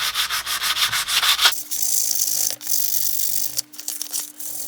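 Fine 600-grit sandpaper rubbed over a hard plastic RC Jeep Cherokee body, quick rhythmic scratchy strokes close up, then slower drawn-out rubs with a faint steady hum underneath.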